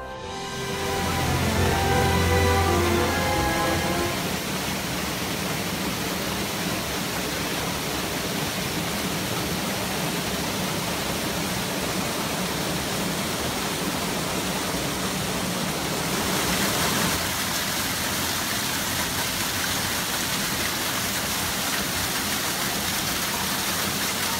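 Continuous rushing water from streams and waterfalls on a forested Pacific seashore, a broad steady roar that stays constant, with a brief low tone at the start.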